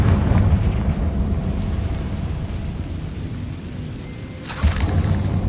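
A Confringo fire spell explodes in a Hogwarts wizarding video game, a loud rumbling blast with a rolling, thunder-like roar that fades and then swells again with a sharp burst near the end.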